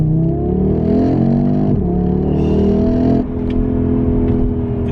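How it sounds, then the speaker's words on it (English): An Audi RS3 launches hard away from a T junction with a touch of wheel spin on the inside wheel, its engine loud and close as revs climb, ease briefly, then rise again through the gears. "Did that get a little bit of wheel spin on the inside wheel there?"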